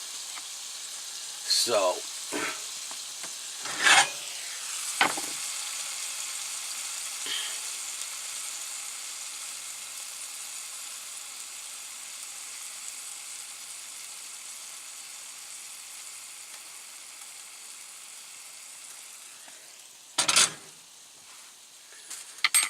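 Meat sizzles in a pan for an Irish-style shepherd's pie made with Irish red ale: a soft, steady frying hiss runs throughout, broken by a few brief spoken words and clatters.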